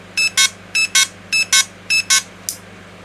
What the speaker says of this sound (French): Au lieu de faire bip, il fait bip bip maintenant.